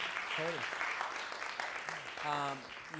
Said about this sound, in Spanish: Un aplauso a José.